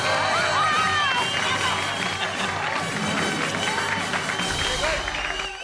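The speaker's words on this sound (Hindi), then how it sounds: "भाई सोनू के लिए एक बार जोरदार तालियां" A large audience claps and cheers for Sonu, who came first in his whole school, with loud sustained applause, whoops and shouts from children that fill the room throughout.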